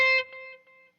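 A single electric guitar note with distortion rings out, and a soft delayed echo trails after it before fading quickly.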